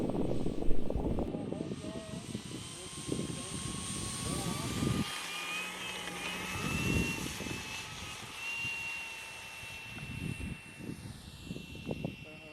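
A Flightline F4U-1D Corsair radio-controlled model warplane with a 1600mm wingspan drones steadily in the distance, rising and falling in pitch as it flies in strong wind, with people talking loudly nearby over much of it.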